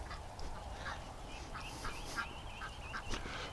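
Ducks, including Muscovies, quacking outdoors near a deck, several soft, somewhat distant calls over a steady low background hum, with no one talking.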